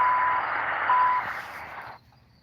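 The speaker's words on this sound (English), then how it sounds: "Right as it did the beep for the next minute." A Canadian radio time station sounds its steady tone marking the next minute, one sustained beep lasting about two seconds and then cutting off to near silence.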